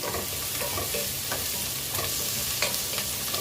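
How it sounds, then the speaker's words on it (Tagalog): Chicken is stirred in a frying pan for valenciana, a steady close sizzle with soft scraping and a few light clinks of the spoon, no voices. "Mix natin yung chicken"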